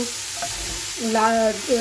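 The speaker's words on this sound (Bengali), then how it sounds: "এখানে আমি সব রকমের ভেজিটেবিল ভাজা করছি যেরকম আছে ভেজিটেবলসের মধ্যে ব্রোকলি ক্যাপসিকাম আলু" Broccoli, capsicum and potato fry in a pan, giving a soft, continuous sizzle, with brief tonal, voice-like sounds rising over it partway through.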